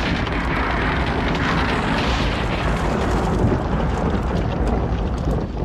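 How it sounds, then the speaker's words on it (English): Buildings blown up to stop a fire make a loud, dense, continuous rumbling roar that holds steady throughout with no gaps. "The soldiers pull down houses and blow up shops."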